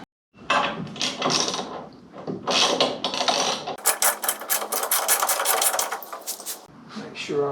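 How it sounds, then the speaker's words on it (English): Socket wrench ratcheting on a 1978 Corvette front end, with bursts of clicking and mechanical rattling in short runs close by. "let me get a socket wrench on that"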